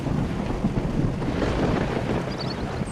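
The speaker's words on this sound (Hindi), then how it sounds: "अभी वो थोड़ा ही दूर गया था कि बारिश तेजी से शुरू हो चुकी थी।" Heavy rain starting as a cartoon sound effect, a dense steady roar of rainfall with rumbling low noise, continuous and loud throughout.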